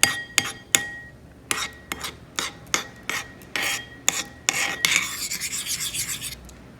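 A spoon stirring soaked chia seeds in a glass, giving a series of close scraping clinks against the glass, rhythmic at first and then quickening into rapid repeated taps.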